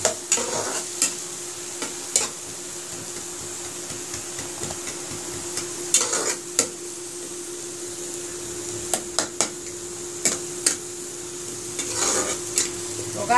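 An onion and tomato masala fries in a pan with a steady low sizzle, while a spoon stirs and scrapes against the pan in sharp, irregular clicks and knocks throughout.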